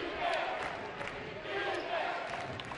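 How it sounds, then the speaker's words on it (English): Basketball arena crowd chanting defense in a rhythmic, swelling roar with pulses of voices rising and falling, loud and close throughout. "Crowd chanting defense."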